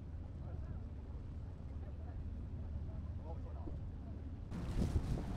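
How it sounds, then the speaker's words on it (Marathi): A river boat ride in Paris near the Eiffel Tower: a low, steady rumble of engine and water under wind noise, with a louder gusty burst near the end. "असा बोट राईडचा आनंद घेता येतो."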